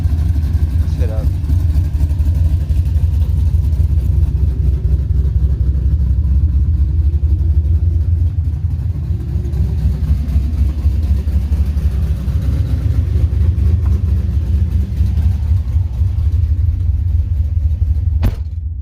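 A low, heavy engine rumble runs steadily throughout, a GMC Sierra pickup truck idling and pulling away, with a faint click near the end.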